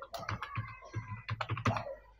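Someone types an NIC number on a computer keyboard while filling in an online registration form. About a dozen close, crisp key clicks come in an uneven rhythm, with short pauses between bursts, and no voice is heard.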